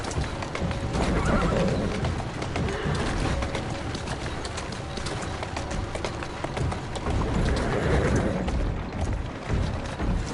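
In Assassin's Creed Syndicate, a horse whinnies loudly over the steady clip-clop of hooves at a trot, the hoofbeats continuous and close against a dense background of game noise.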